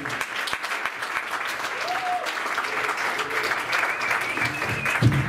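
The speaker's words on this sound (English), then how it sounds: "give it a round of applause" A Las Vegas audience breaks into loud, sustained applause, a thick wash of clapping that holds steady for several seconds and swells slightly near the end.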